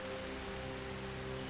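Tropical rain shower in the southern African bush pours as a steady, dense hiss of falling water, continuous and moderately loud with a faint low hum beneath.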